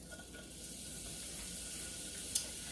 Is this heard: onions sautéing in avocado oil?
yes